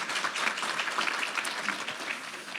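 A room of people clap together at a Pensacola Chamber State of Inclusion event, a steady, moderately loud applause that holds evenly from start to finish without fading.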